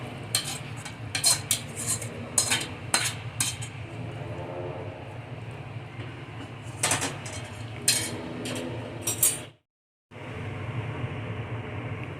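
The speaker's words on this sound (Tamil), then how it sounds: "இதை வந்து சர்விங் பவுலில் மாற்றிடலாம்" A paneer dish is spooned out of a cooking pan into a serving bowl: sharp metal clinks and scrapes of spoon on pan in clusters, with a brief silent gap near the end.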